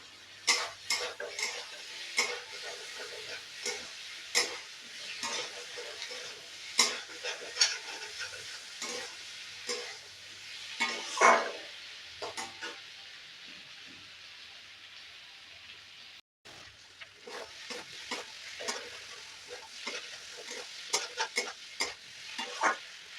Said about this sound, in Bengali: আবারও একবার ভালো করে নাড়িয়ে চাড়িয়ে ভেজে নেব।